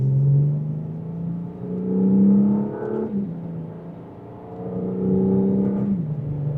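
A 2026 Audi S5 Premium Plus in dynamic mode pulls hard in second gear, the engine note climbing in two smooth rising sweeps with a brief dip at the shift, heard from inside the cabin without talk.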